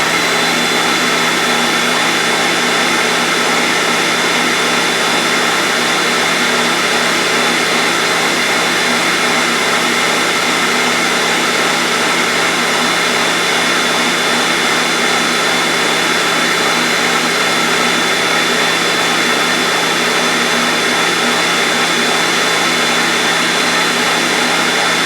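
An electric mixer beating strawberry cake batter, a loud constant motor whine with a steady pitch that never lets up, close by and alone with no talk.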